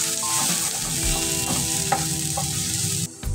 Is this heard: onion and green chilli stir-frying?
yes